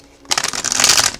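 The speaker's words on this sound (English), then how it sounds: "One more shuffle." A quick riffle of tarot cards being shuffled, a close, crisp rustling burst lasting about a second after a brief quiet start.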